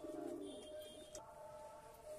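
A plain white female pigeon of a high-flying breed coos softly once at the start, faint and close, with a brief rustle later.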